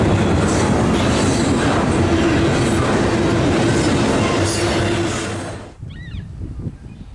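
A loud BC Rail freight train rumbles past close by on the Three Hills subdivision with steady clattering wheels, then fades out abruptly, leaving quieter outdoor noise.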